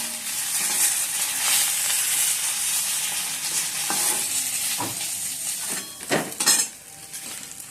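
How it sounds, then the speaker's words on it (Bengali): Fish fries in a hot pan with a bright, steady sizzle, joined near the end by a few loud metallic scrapes and clanks of a utensil against the pan, close and without talking. "মাছ ভাজা করছি।"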